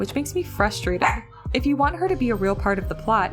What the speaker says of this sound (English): If you can hear the dog barking in the background and my neighbor's dog